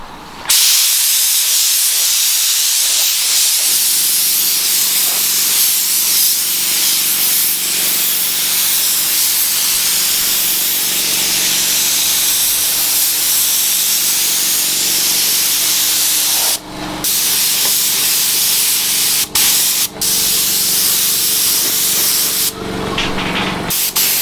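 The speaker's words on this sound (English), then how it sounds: "Right, just going to put on the last coat now." Spray gun laying a final coat of paint on a VW Caddy MK3 siderail cover: a loud, continuous close hiss that runs almost unbroken for over twenty seconds, with a few brief pauses near the end.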